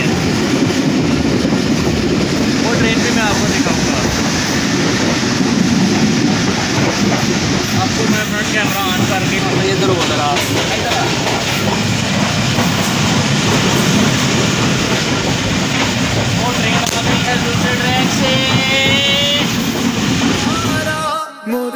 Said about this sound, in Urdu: یہ جو دوسرا ٹریک ہے، اس میں سے بھی ٹرین آ رہی ہے